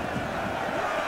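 Massed soldiers in a Total War: Rome 2 battle raise a brief, loud, continuous cheer, a dense crowd roar without breaks.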